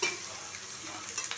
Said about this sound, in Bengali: তেলটা গরম হয়েছে, তারপরে কালো জিরে দিয়েছি, তারপরে পেঁয়াজ ভাজছি